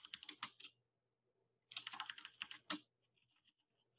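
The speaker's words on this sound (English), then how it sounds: "Start typing it in" Quiet clicking of a computer keyboard in two short bursts of rapid keystrokes separated by a pause, close but faint, with no voices.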